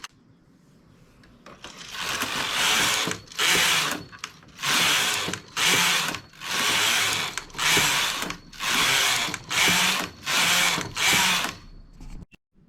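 A domestic knitting machine carriage runs back and forth across plain stockinette rows, producing about ten loud rasping mechanical passes with short pauses between each, close up.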